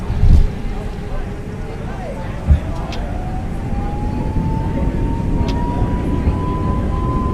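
Airbus A320 engines spooling up to takeoff thrust in Microsoft Flight Simulator 2020, a steady rising whine climbing in pitch over a broad low roar, with brief thumps early on.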